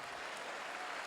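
A congregation at a church service claps loudly for Jesus, a brief burst of dense, steady applause filling the whole moment.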